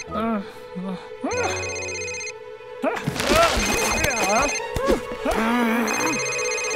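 A telephone rings with a melodic electronic tone in a library in an animated children's show. The tune repeats in bursts for several seconds while cartoon voices talk and exclaim over it.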